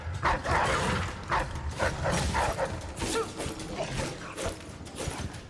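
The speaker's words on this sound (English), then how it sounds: "We're just gonna have to fight these dogs, I guess." Dogs bark and yip repeatedly in the stealth game Death of the Outsider, a fairly loud run of sharp calls with mechanical game sounds underneath.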